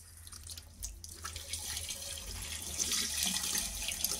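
Tap water pours into a bathroom sink fitted with PVC piping, starting as a soft trickle and swelling into a steady, hissing stream that fills the space close by, with no talk over it.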